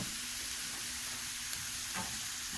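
Onion frying in a pan, a dense continuous sizzle heard close up with a faint low hum underneath and one brief soft knock, no voices.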